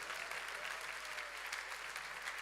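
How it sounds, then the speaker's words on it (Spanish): A church audience claps together in a dense, even burst of applause that fills the short moment at a moderate distance. "pero fuerte ese aplauso"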